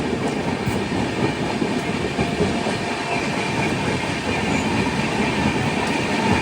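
A train hauled by WDG 4 ALCO diesel locomotives rumbles steadily along a single-line track between Kadapa and Nanded, a dense, constant roar of wheels and rail noise with faint clatter and no voices.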